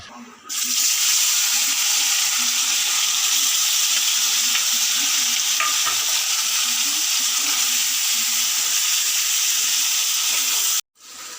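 Loud, steady sizzling of meat frying in a hot pan, continuous and close, cutting off abruptly near the end.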